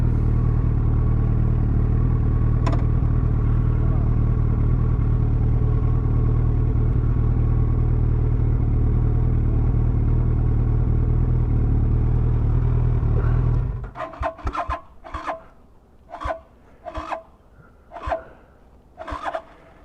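A motorcycle engine runs with a steady, loud, low idle for about thirteen seconds, then cuts out abruptly and gives way to a string of sharp, evenly spaced clanks and clicks.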